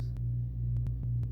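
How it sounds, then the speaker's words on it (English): A home air conditioner hums steadily with a low drone, while faint intermittent clicks or taps break through the background. "Sorry about that, that's my air conditioner."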